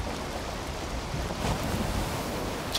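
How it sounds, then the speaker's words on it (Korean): Rough sea waves in Valheim surge around a sailing boat, a broad roaring wash of surf and wind that swells and recedes steadily for a few seconds, with a sharper splash at the end. "오 파도 왜 이래?"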